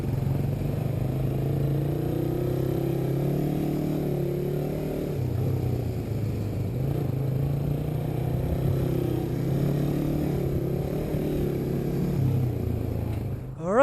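A 2019 third-generation Suzuki Raider R150 carburetor underbone motorcycle is ridden in second gear, its engine droning steadily with gentle rises and dips in pitch and a short burst at the end.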